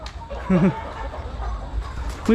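A chicken gives a short, close cluck early on, with another brief call at the very end, against faint background noise outdoors in the early evening dark.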